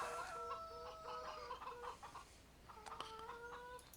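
Chickens in a Farming Simulator 17 coop cluck in short, tonal bursts, a cluster of calls early on, a pause, then another run of clucks near the end, fairly quiet and with no talking.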